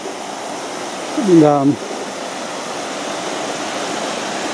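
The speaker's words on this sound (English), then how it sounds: "So this is the top of the waterfalls" The waterfall at the top of Galliebarinda Falls in the Otways gives a steady, close rush of falling water that fills the whole clip, with a short spoken word over it near the start.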